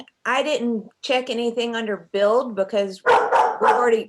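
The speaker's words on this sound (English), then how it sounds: "sorry about the dogs." Dogs barking indoors in the background during an online meeting, several sharp yelping barks in quick bursts, partly mixed with a person talking.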